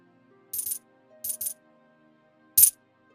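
Silver coins dropping in a short story scene, three separate bright metallic jingles, the first two each a quick double clink and the last a single sharp cluster, heard alone against silence.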